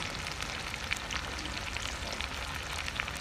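Chilies and curry leaves with potatoes frying in hot oil, a steady close crackling sizzle with scattered sharp pops, continuous and fairly quiet throughout, with no voices.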